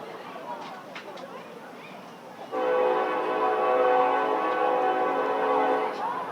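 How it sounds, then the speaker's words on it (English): A train passes near a ballpark during a night baseball game, its horn entering partway through as a loud, sustained multi-tone blast that holds steady for several seconds over faint crowd chatter. "First train of the night here at Mike Carter."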